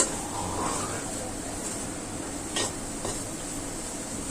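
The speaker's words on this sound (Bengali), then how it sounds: "এখন আমি রসুন দিয়ে তেল দিয়ে বাগার দিব।" Garlic tempered in hot oil for a spinach dish, a steady close sizzle with light metal stirring and a couple of brief utensil clinks against the pan.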